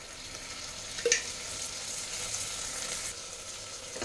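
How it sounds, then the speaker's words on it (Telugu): Ginger garlic paste sizzles in a hot pan as it is mixed in, a steady frying hiss with a brief clink of the utensil near the start, no talk. "ఇప్పుడు ఇది మిక్స్ చేసుకుందామండి."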